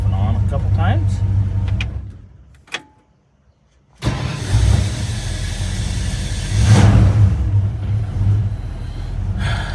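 A 1965 Ford Ranchero engine is shut off and then restarted: the idling engine dies away into near silence, a brief click, then the starter catches and the engine rumbles back to a steady idle with a rising surge, while someone talks.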